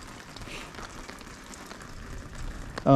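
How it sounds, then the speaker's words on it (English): Hail patters outside an RV as a steady, faint rattling hiss, ending with a sudden louder burst, and no talk. "She saw that it was hailing and thundering outside."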